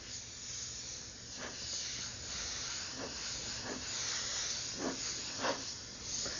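Airbrush spraying paint: a steady airy hiss runs throughout, with repeated short bursts as the trigger is worked.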